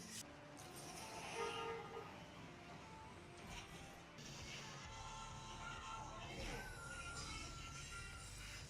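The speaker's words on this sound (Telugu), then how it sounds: "ట్రైన్స్ మధ్యలో తీసుకెళ్తున్నాడు ఇది నన్ను." Trains rumble past in a mobile game played on a OnePlus 13s phone, a steady mix of rolling rail noise and horn toots running throughout.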